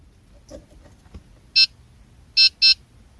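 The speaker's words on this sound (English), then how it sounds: "When you hear the two beeping sound, switch the ignition off." Key fob programmer connected to a 2014-2020 Honda Odyssey gives three short, shrill electronic beeps close by: one alone, then a quick pair about a second later, over a quiet background with faint clicks.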